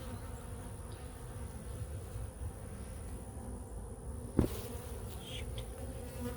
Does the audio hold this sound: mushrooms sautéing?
no